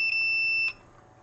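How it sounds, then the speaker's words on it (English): A multimeter's continuity buzzer emits a steady, close electronic tone of about two-thirds of a second, then cuts off, during testing of valve pins in a 1946 Kriesler 11-4 beehive radio. "I've got the buzzer on the meter, so we should just be able to hear the buzzer"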